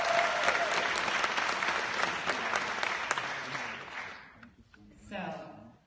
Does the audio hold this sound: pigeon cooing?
no